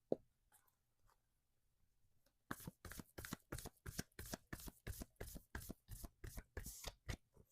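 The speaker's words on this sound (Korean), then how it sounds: "이번엔 타로 카드 4장으로 한번 보도록 하겠습니다" Tarot cards shuffled by hand after a near-silent pause, a rapid run of crisp riffling flicks in a steady rhythm, close and fairly loud.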